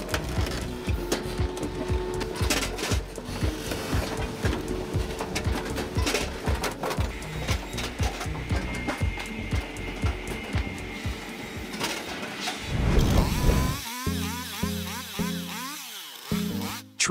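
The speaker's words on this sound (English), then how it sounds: "The firewood processor cuts and processes logs up to 41 centimeters in diameter." Automatic firewood processor cutting and splitting logs up to 41 cm across, with dense rhythmic mechanical clatter and knocking, then a loud surge and a series of sharp repeated cycling pulses toward the end.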